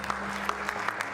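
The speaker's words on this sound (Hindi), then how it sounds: "एक बार जोरदार तालियां इनके लिए भी होनी चाहिए।" Audience clapping for a singer's mother called onto the stage at a televised Indian singing competition, a steady wash of applause with a few sharper claps standing out over a low hum.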